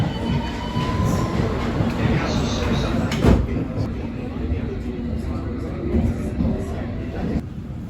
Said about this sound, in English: This is the Hammersmith City Line train to Barking